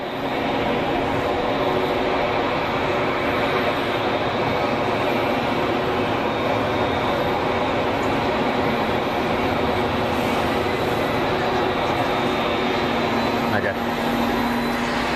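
An airliner taking off at Geneva Airport, a loud sustained jet roar with broad rushing noise that holds steady throughout, with someone talking over it.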